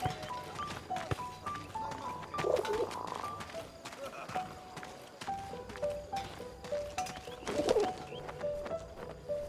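In the video game 11-11 Memories Retold, a pigeon coos softly in repeated low phrases amid a busy ambient soundscape with clicks and other game sounds, voices speaking intermittently.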